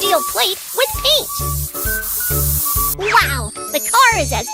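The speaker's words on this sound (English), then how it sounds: "Then spray the steel plate with paint." Cartoonish spray-paint hissing as a steel plate on a car is painted in a kids' car repair game, heard in short hissy bursts among bright jingles and chimes while a child-like voice talks over it.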